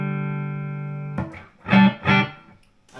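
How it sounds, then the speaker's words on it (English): A guitar amplifier's vibrato channel: a sustained tone rings alone for about a second, followed by pulsing, wavering bursts of sound with rhythmic swells and decays. "Let's try the vibrato channel."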